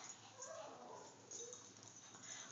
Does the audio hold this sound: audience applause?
no